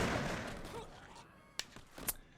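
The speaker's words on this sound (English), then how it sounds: "Gunshots flying on into the enemy waves." Gunfire from musket-armed troops in the Shogun: Total War battle game, heard as a few sharp cracks late in the clip after a fading rumble of battle noise, with a couple of close shots standing out.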